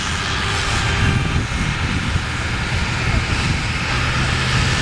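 A tractor engine roars steadily and loudly throughout a tractor pulling run at Vastseliina, a continuous dense drone with a faint announcer's voice under it.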